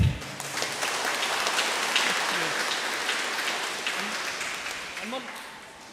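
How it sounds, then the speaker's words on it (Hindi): A church congregation at a harvest festival celebration applauds in a sustained, even wash of clapping that fades slowly, with a few voices audible underneath. "तो जोरदार तालियां बजा दें।"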